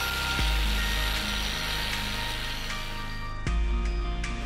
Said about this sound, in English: I've had to break out the angle grinder to cut through these.